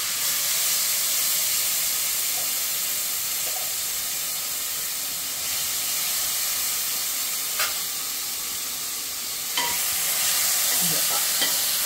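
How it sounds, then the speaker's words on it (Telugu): A paste of tomato, green chili and onion frying in ghee in a pan, giving a loud continuous hiss and sizzle with a few faint clinks of stirring scattered through it. "దాన్ని ఇప్పుడు మనం దీంట్లో ఫ్రై చేసేసుకున్నాం."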